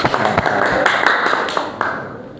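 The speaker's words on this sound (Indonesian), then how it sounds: "tepuk tangan ya" A group claps in a classroom after a successful wireless networking cabling demonstration, a dense run of overlapping hand claps with some sharper individual taps standing out, loud and close, lasting a couple of seconds.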